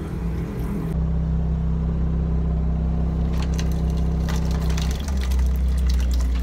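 A water pump aboard a boat runs after being switched on, giving a steady, close, low droning hum with a deep rumble that holds without pause and dips briefly near the end.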